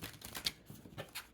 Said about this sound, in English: I've been shuffling this deck for quite a while.